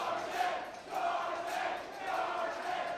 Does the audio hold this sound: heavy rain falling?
no